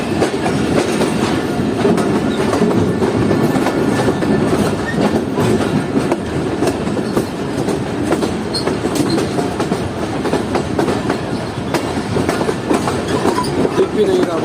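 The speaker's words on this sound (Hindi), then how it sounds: "प्लेटफॉर्म नंबर 1 से स्किप कर रही है हमारी ट्रेन कोटरी जंक्शन को।" A Karakoram Express passenger train runs past the Kotri Junction platform under a 15 km/h caution, giving a loud, steady rumble with rhythmic clickety-clack from the wheels that holds through the whole stretch.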